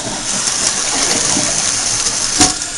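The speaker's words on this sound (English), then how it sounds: "I'll show you how much more water will force itself into the bowl" Kohler canister toilet flushing with the handle held down, a loud, steady gush of water rushing into the bowl throughout, with one brief louder surge near the end.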